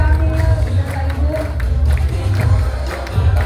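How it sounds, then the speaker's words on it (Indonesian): Audience applause and cheering fill a crowded hall at a political rally declaring support for Ridwan Kamil and Suswono, a steady, dense roar of clapping and crowd noise that holds throughout. "Tepuk tangan."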